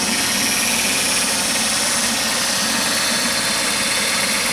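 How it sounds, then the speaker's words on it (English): A car engine idles smoothly after an EGR valve replacement, giving a steady, even hum with a faint rhythmic pulse, close by and unbroken, with no talk over it. "I was wanting to show you how smooth the engine is running."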